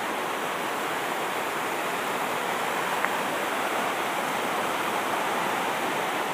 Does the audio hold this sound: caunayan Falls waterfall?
yes